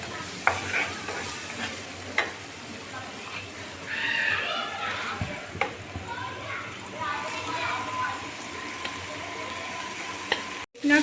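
Garlic and ginger with spices frying in hot oil while being stirred for chicken patty filling, a steady soft sizzle with scraping stir strokes and light clinks, some faint background voices.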